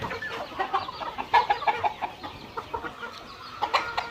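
Rooster and hens cluck in a steady run of short, overlapping calls, some near and some farther off, in a rural farmyard with no talk.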